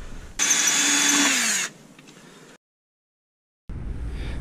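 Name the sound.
power drill drilling with a 1/4 inch drill bit into the van chassis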